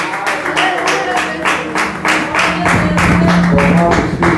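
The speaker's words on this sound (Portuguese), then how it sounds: "Recebe o pastor com as palmas bem alegres para o Senhor Jesus." A church congregation at a worship service claps in rhythm to welcome the pastor, a loud, steady beat of many hands repeating over background music.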